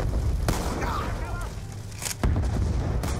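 Sharp gunshots crack out several times amid a dense, noisy firefight in Call of Duty: Black Ops 2, with booming impacts and clattering debris; a voice talks underneath.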